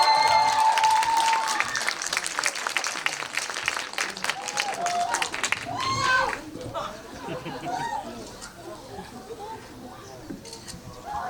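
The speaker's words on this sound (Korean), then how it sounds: "여러분, 네, 큰 박수 부탁드릴게요" An audience at a film screening Q&A bursts into loud applause for an arriving actor, a dense roar of clapping that drops off after about six seconds into crowd chatter and a speaking voice.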